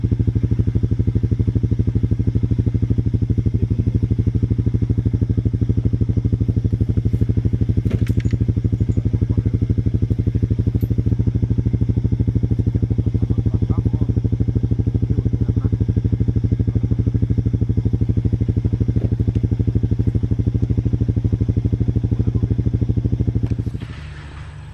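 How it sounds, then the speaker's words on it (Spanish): A motorcycle engine idles loudly and evenly with a steady, throbbing hum for over twenty seconds, then shuts off abruptly at the end. "vamos a ir por la moto en estos momentos"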